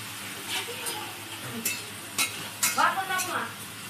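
Fish heads frying in a pan, a soft sizzle broken by scattered utensil scrapes and clinks against the pan, close but not loud, with some speech mixed in.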